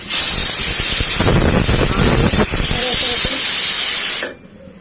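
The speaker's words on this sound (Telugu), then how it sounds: "శనగపప్పు కుక్కర్లో పెట్టింది ఉడుకుతుంది" A pressure cooker cooking chana dal lets out a loud, continuous steam hiss close up that cuts off abruptly after about four seconds, with a voice talking over part of it.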